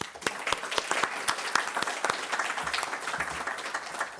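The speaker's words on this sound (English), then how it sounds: "Please join me in giving a round of applause to our wonderful speakers." Enthusiastic applause from a conference audience for a panel of speakers, steady dense clapping with a few sharper claps standing out, sustained throughout.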